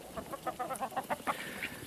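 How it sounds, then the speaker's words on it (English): Ducks outdoors in the snow give a run of quick, close quacks and clucks in an irregular rhythm, with no talking. "The ducks are playing in the snow."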